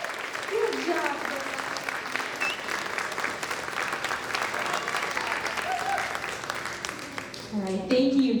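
Sustained applause from a pageant audience for Little Miss contestants at the 2021 Miss Grayslake Pageant, a thick, even wash of clapping lasting several seconds, with voices heard briefly under it and a swell near the end.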